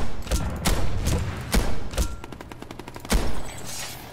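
Gunfire from the Bull weapon in Planetside 2 rings out as a series of about six loud, heavy shots with uneven gaps, each a sharp booming crack over steady game ambience.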